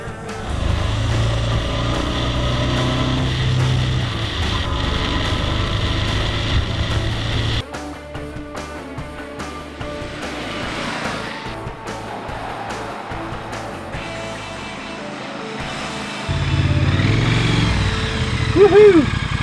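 A 2017 Triumph Thruxton motorcycle being ridden, its engine droning loud and steady with a shift in pitch partway through and rising again near the end, heard up close with wind.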